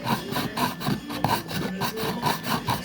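A handheld manual sharpener scrapes in rapid, regular back-and-forth strokes, close and moderately loud, a rhythmic rasping with no talk over it.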